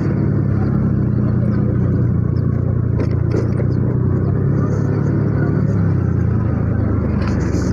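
A car passes on a road during a motorcycle ride, heard as a loud steady rumble mixed with wind and engine noise, close by and continuous.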